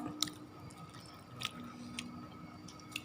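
Crispy fried silkworm pupae are chewed close up, with quiet, moist crunching and a few sharper crisp bites spaced through a soft background.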